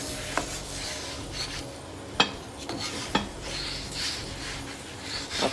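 Paratha (buss up shut) cooking on an oiled tawa, a low steady sizzle broken by a few sharp metal clanks and scrapes of a spatula as the bread is flipped, no talking.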